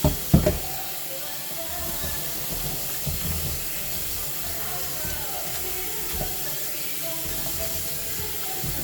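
A kitchen blender is rinsed under a running tap in a home kitchen, giving a steady, close hiss of flowing water after a few sharp knocks at the start.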